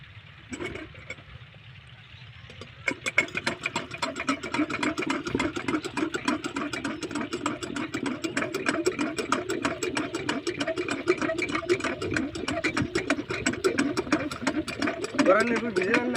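A new JD shallow tube-well water pump engine starts up and runs steadily, its rapid, even chugging close by and continuous, with voices talking over it.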